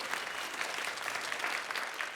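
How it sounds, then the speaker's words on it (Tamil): Audience applause at a Tamil comedy debate (pattimandram) welcoming a long-standing speaker, a dense, steady patter of many hands clapping at even loudness throughout, with no voices over it. "நீங்கள் நல்ல ஒரு கரகோஷம் கொடுத்து வரவேற்று."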